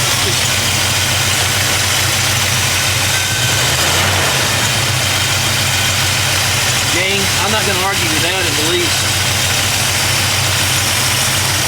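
A very old car engine with a 1970s HEI ignition upgraded to an Addco 8200 kit idles with a steady low rumble throughout, while someone talks over it close by.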